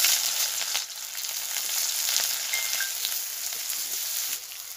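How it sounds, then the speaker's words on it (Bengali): Chopped onions frying in oil for a cauliflower dish, a steady, fairly quiet hissing sizzle with faint crackles and occasional light stirring sounds, heard alone. "কুচানো পেঁয়াজ এগুলো ভেজে নেব।"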